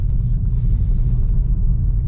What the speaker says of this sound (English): I'm not really that keen to put my car over rutted dirt roads at the moment, but I'm in